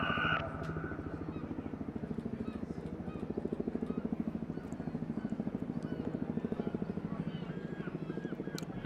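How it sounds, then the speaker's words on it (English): A Chinook helicopter at an airshow display gives a steady, rapid rotor thudding at moderate distance, continuous throughout with a faint tone at the start. "there's the Chinook queuing that final turn onto datum, rolling out now"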